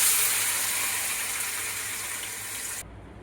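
A ground onion and tomato paste goes into hot oil with popped mustard seeds and curry leaves, producing a loud, steady, close sizzling hiss that runs unbroken and then cuts off abruptly near the end.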